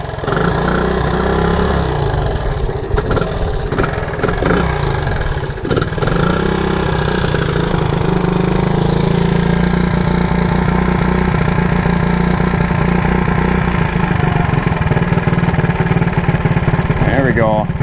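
An abandoned Honda three-wheeler's air-cooled engine idles loud and close, running rough and uneven with a few blips of revving, under occasional talk.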